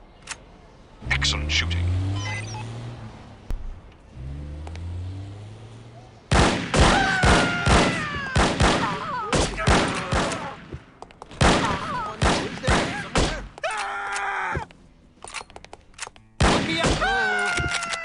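Gunfire from the No One Lives Forever video game: loud, rapid volleys and single shots come in several bursts separated by short pauses, with voices heard between and over the shooting.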